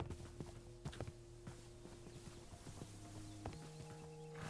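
A horse walking in Minecraft, quiet hollow clip-clop hoof steps in an uneven rhythm with a few sharper knocks, soft and close, no speech.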